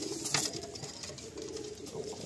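Andhra racing pigeons coo in a full loft, low murmuring coos drifting in and out at moderate volume against soft background rustle, with no one talking.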